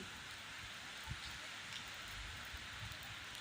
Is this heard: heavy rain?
yes